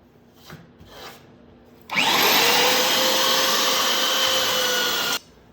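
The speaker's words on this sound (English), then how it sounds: "The belt sander was definitely the way to go with this." A belt sander works the wooden keelson of a Somes Sound 12 1/2 sailboat, with a few faint knocks, then a loud, steady abrasive roar for about three seconds that stops abruptly.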